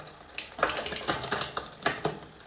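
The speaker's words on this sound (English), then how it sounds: "run it through the gears and run it back down" An e-bike derailleur clicks through gears, a quick series of sharp, light mechanical ticks, fairly close and quiet.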